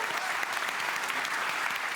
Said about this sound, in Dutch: Even nog een applaus.